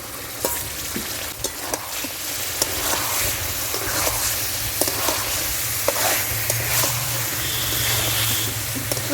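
Fried taro pieces go into hot oil and spices released from a masala base for a vegetarian mankochu malai dish, sizzling steadily and loudly with intermittent stirring scrapes and clicks close by.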